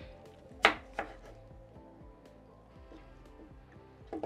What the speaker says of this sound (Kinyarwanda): Turatangira rero dukata igitunguru, ugikata mu buryo ushaka